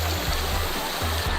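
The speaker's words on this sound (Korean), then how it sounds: "졸졸졸 흐르는 맑은 계곡을 타고 시원한 바람이 불어옵니다" A mountain stream flowing through a valley in the deep hills of Samcheok, Gangwon, a steady close watery rush with soft gurgles, heard alone.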